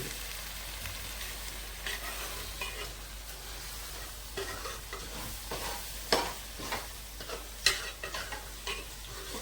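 Scrambled eggs fry in a pan while being stirred, with steady close sizzling and a few sharp scraping knocks of the utensil and no speech.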